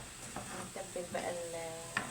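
Onion and garlic sizzle while being sautéed in a pan, a quiet frying hiss broken by a few scraping stirs of a utensil.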